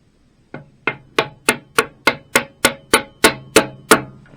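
Hammer tapping a BSA A50 motorcycle gearbox part into place during reassembly: about twelve sharp, evenly spaced metallic knocks, close and loud, with no talking.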